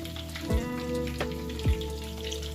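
Cornmeal-battered eggplant slices frying in hot oil in a frying pan, a steady close sizzle with a few brief louder pops and bursts, no talk.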